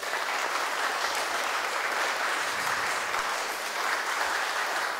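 Steady, sustained applause from a crowd honouring award winners at a children's art contest prize ceremony, dense clapping filling the whole stretch at an even loudness.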